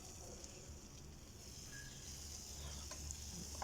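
Onions frying in a pan for spinach masiyal, a quiet, even sizzle that runs throughout with faint stirring clicks now and then.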